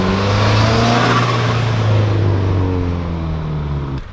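A Subaru car engine revs while driving, a loud close mid-pitched drone rising and falling through a few gear pulls with no one speaking.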